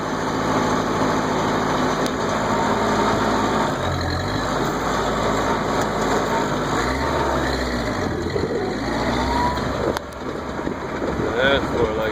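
A ranch tractor's engine drones steadily in a higher, faster gear, loud and close with wind buffeting, the pitch shifting slightly as it travels along a dirt track.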